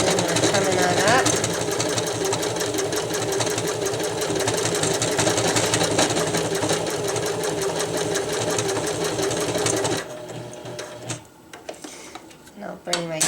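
A sewing machine stitches one-inch poly webbing for DIY tree straps, running loud and steady in a rapid mechanical rhythm for about ten seconds before stopping, followed by a few quieter handling knocks.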